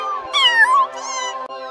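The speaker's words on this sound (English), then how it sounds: "only to be replaced with the faint mewling of kittens" A kitten mews in one drawn-out, wavering cry that rises and falls, clear and close, with a short second call trailing off at the end.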